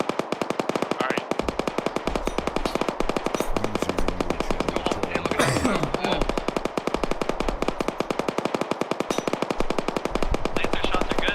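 Dense automatic gunfire in the video game Arma during a large team battle in the snow: rapid, continuous bursts of machine-gun fire with layered shots, loud and sustained.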